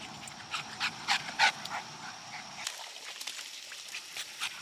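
A nearby dog that has just gone through a pond on a hike in the Catskills pants in rapid rhythmic breaths mixed with soft whimpers, over low background rumble and a faint steady whine.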